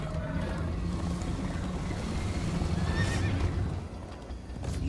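Hooves clatter steadily in a fast rhythm under a steady wind-like rush in Minecraft: Story Mode, with a horse's whinny rising briefly partway through.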